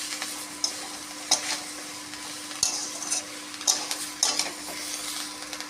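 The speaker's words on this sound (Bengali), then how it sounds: "দিয়ে ভালো করে কষিয়ে নেব।" Potatoes, fried pointed gourd, soybean chunks and stalks are stirred and sautéed in a pan, a low sizzle running underneath about half a dozen sharp scraping clanks of a spatula against metal, spaced irregularly, with no talking.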